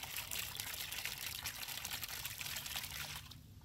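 A water fountain trickling and pouring in a steady, continuous stream, fairly close, with no talk, fading slightly near the end.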